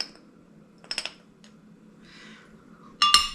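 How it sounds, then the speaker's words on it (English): A measuring spoon clinks against a glass paprika jar in a kitchen, a quick cluster of bright taps followed by a faint scrape and a louder final clatter, close and otherwise quiet. "I love these spoons because they go into the jar so nicely."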